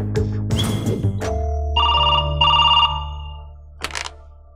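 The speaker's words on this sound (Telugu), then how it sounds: "నేను ఫోన్ చేస్తుంది నా ఫ్రెండ్ ఎస్ఐ విక్రమ్ కోసం." A telephone rings during an outgoing call, with clear electronic ringing bursts in a pattern of two close pulses, near and fairly loud, between short gaps, followed by a brief sharp chirp.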